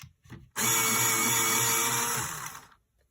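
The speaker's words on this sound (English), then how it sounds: "I just want to see how it sharpens with my electric sharpener" An electric pencil sharpener sharpening a coloured pencil whirs and grinds for about two seconds, starting abruptly and then winding down, with no talking.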